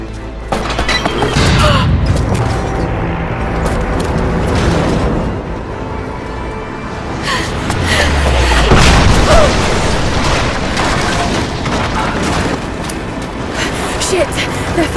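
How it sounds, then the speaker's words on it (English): Enemy gunfire in the video game Rise of the Tomb Raider in a frozen city, booming shots and bursts over a dense rumbling mix, with a voice speaking over the action. "they're firing at me"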